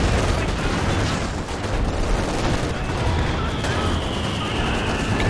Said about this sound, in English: light artillery barrage on the heavy mortar